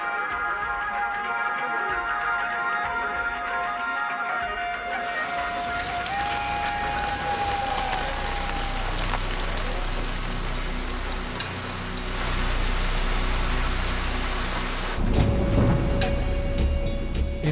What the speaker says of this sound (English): It rains for days on end without pause, and each day seems to get wetter than the day before.